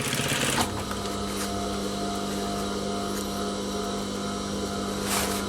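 A sewing machine runs steadily, stitching the rib of a collar, a continuous close mechanical hum with a brief louder burst near the start and again near the end; no voices.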